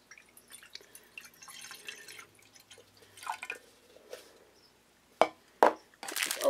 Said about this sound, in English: So let's put the water in.